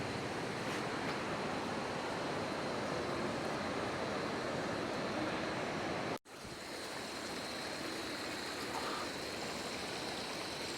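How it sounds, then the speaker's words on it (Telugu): The Chalakudy river rushes below Athirapally falls in Kerala, a steady, dense roar of flowing water that holds constant throughout, broken only by a momentary cutout near the middle. "ఇది రివర్ అయితే ఫ్లో అవుతుంది."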